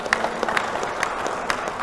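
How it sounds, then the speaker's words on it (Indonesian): Applause from a religious gathering for a group of young sponsors, a scattered crowd clapping with sharp irregular claps standing out over a steady wash of hands. "tepuk tangan buat mereka"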